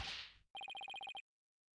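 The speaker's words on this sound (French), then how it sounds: "T'es d'accord que c'était la sonnerie de samouraï d'acier" The Steel Samurai ringtone from a phone in Apollo Justice chirps as a rapid burst of about ten identical electronic beeps following a short hiss, crisp and close, then silence.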